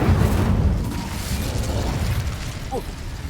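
Incendio fire spell cast in the Hogwarts Legacy video game against damaged rocks, a loud whooshing fiery burst that fades into a rumbling, crackling tail.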